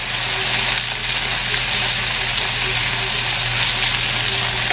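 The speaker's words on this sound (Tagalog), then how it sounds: "Lagyan natin ng konting giniling, pork giniling, para meron ng lasa." Ground pork sizzles and fries steadily in a pan for adobong kangkong, a loud, continuous crackle with no talking over it.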